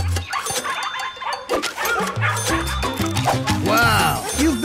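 Cartoonish dog barks and yips ring out from the Venture Valley mobile game, mixed with game music and a character's voice talking over much of it.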